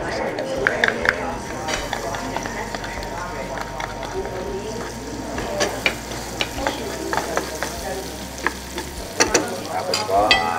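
Garlic frying in olive oil at a home stove, sizzling steadily with frequent stirring scrapes and clinks of a pan, under ongoing talk.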